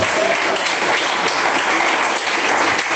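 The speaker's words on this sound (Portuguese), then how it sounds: "Palmas e glória a Deus" A congregation claps during a church sermon, a dense, even burst of applause that holds at a constant loud level throughout without pauses.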